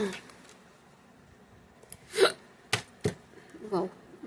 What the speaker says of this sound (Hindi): बड़ी हिचकी आ रही है